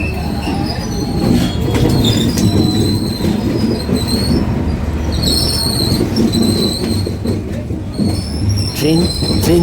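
A train passes through Hanoi's narrow train street, very close and loud, with a steady rumble, clattering wheels and repeated high metallic squeals throughout.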